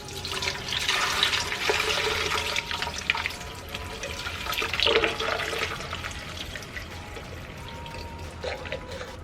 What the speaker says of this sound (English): Now that my hibiscus has cooled, I'm going to strain it into the blender.